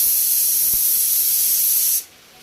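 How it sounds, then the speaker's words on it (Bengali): A pressure cooker cooking rice lets out a loud, steady hiss of steam for about two seconds, then cuts off abruptly to near quiet. "কথা বলতে বলতে আমার দানার ভাত হয়ে গিয়েছে, প্রেসার কুকারে সিটি দিচ্ছে"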